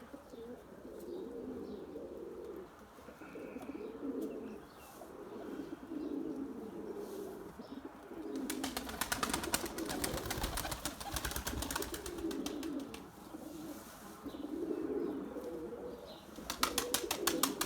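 Pigeons coo steadily inside a coop, their low rolling calls repeating in overlapping waves, with occasional chirps, wing flutters and brief bursts of rattling noise.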